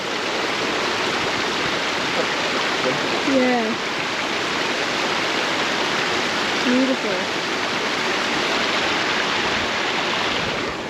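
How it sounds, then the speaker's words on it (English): Rushing water pours steadily down toward a big waterfall in Kourtaliotiko Gorge, Crete, a constant dense roar filling the scene from start to finish, with brief voices speaking over it. "all this water goes down, and that's that big waterfall that you saw before"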